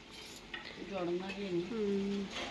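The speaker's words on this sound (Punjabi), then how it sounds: "ਹੁਣ ਇਹਨਾਂ ਨੂੰ ਆਪਾਂ ਕਰ ਦਾਂਗੇ ਮਿਕਸ ਥੋੜਾ ਦੇਸੀ ਘਿਓ" Rice cooked with jaggery and desi ghee is stirred in a pan. The stirring and scraping are faint and close, with a soft sizzle underneath.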